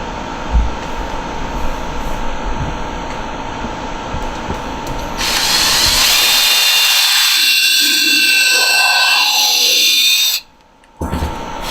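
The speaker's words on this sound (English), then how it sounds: "Put that one in and drill your 3rd hole." A power drill drills the third hole in the neck of a homemade cigar box guitar. A steady motor hum swells into a louder, brighter whine, holds for several seconds, stops briefly, then starts again.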